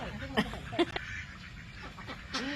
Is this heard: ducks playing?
yes